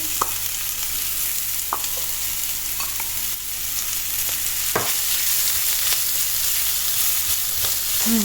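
Onion and spring onion sizzling steadily in a hot pan while cooking pad thai style noodles with konjac, a continuous close frying hiss with occasional stirring clicks and scrapes, no talking.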